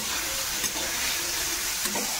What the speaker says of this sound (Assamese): কঁঠালৰ গুটিবিলাক অলপ ভজাৰ কাৰণে অলপমান টাইম কাৰণে ৰাখি দিব লাগিব